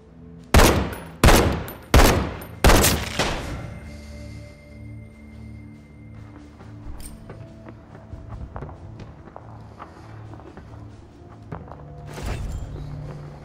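Four loud gunshots from The Walking Dead: Saints & Sinners VR game crack out in quick succession, each with a short decaying tail, followed by a quieter stretch of footsteps and low ambient hum, then one more softer burst near the end.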